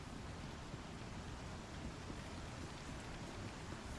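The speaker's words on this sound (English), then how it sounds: "It's raining." Steady rain falls on an outdoor landscape on the planet Hurston in the space game Star Citizen, an even, unbroken wash of rain noise with no voices.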